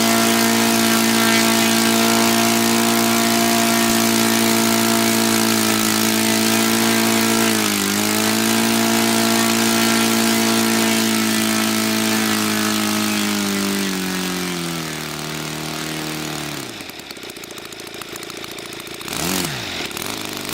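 An O.S. FT-300 model airplane engine runs loud and close at a steady drone, then sags and wavers unevenly as if about to die, before picking back up briefly.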